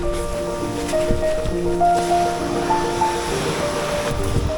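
Steady wash of ocean surf and wind noise on the Sakhalin coast, close to the microphone, with tonal hum and murmuring in the background throughout.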